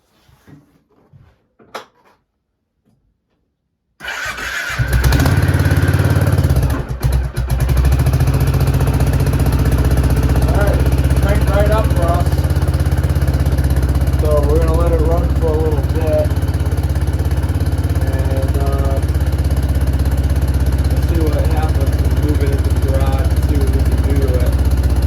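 Small carbureted engine stays quiet through a few faint clicks, then catches abruptly and settles into a loud, steady idle close by, with occasional bits of speech over it.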